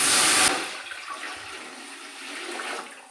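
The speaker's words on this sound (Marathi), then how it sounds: "अंदाजे पाणी आपण घालून घेऊया।" Water pours into a pot on a gas stove while making potato sago chakli, a loud rushing gush at first that quickly drops to a softer, steady trickle and slosh.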